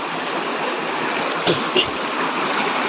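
Close, continuous rushing water from a village stream, with a couple of brief louder splashes as someone wades through it catching crabs.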